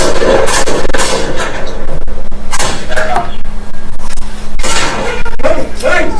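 Gunfire from a police officer's weapon captured on a body camera during a fatal encounter, several sharp loud shots spread across the stretch amid shouting and commotion.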